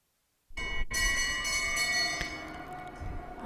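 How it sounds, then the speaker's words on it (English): A lap bell rung at a speed skating race on an indoor Olympic oval, starting abruptly after a short silence with a bright, sustained ringing tone that carries and slowly decays over the arena's hum. "And that's the bell lap for the second pair, Laurence Paquette and Chloe Beauchamp."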